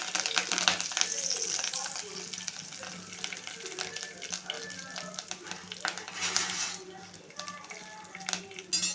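Curry leaves crackle and sizzle steadily in hot oil in a pan, with brief bursts of sharper spitting partway through, heard up close with no talking.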